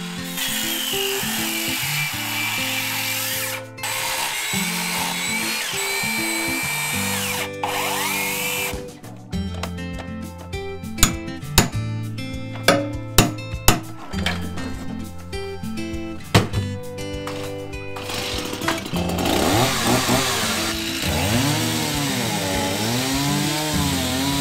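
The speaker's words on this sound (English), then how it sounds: "Chainsaws leave wood waste, but they're better for cutting the edges of flat materials." Chainsaw and power tools whine and buzz through the whole stretch while a wooden staircase is demolished, with a run of sharp cutting bursts in the middle and a steady motor drone throughout.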